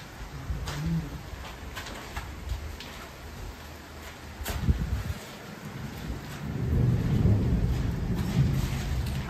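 Heavy rain pours down at night with rumbles and cracks of thunder, wind buffeting the microphone, the downpour swelling louder toward the end.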